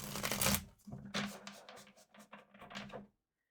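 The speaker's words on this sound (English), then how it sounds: "Let's do one more shuffle." A deck of tarot cards gets riffled and shuffled close by, with papery bursts and flicks in uneven clusters. The sound stops abruptly into silence.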